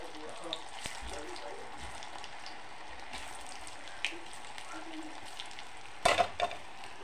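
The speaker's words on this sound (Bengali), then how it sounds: "দেখো এগুলি আমি একদম কালো করে ভাজবো" Rice-flour pitha sweets deep-frying in oil, giving a steady quiet sizzle with scattered small pops and a louder burst of bubbling near the end.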